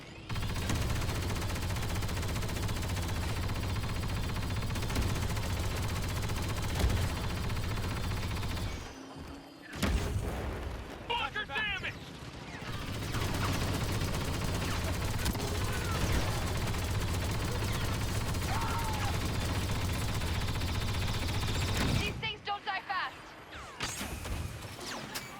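Heavy TL-50 blaster fire in a Star Wars Battlefront match rattles out in long sustained bursts amid explosions and battle noise, with short gaps near ten and twenty-two seconds and a voice calling out between the bursts.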